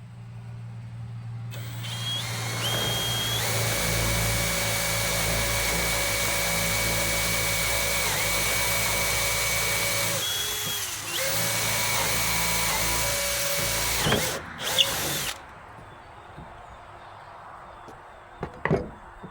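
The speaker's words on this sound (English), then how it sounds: "I'll just drill a new hole then." A power drill bores a new hole through a wooden stake for steam show area dividers, a loud sustained whine running about eight seconds, a brief pause, then a second burst before it stops with a few knocks.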